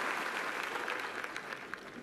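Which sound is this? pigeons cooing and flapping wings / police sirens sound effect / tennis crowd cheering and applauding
tennis crowd cheering and applauding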